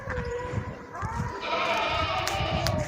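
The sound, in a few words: goat bleating at livestock market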